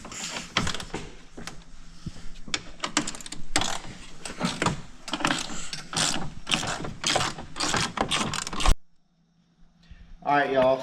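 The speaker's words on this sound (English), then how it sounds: "So next part is we gotta take off these bolts here." A ratchet clicks rapidly in repeated close bursts while 10 mm grille bolts come off a 2015 GMC Sierra, with metallic rattles between runs, then a short silence and a brief trailing sound.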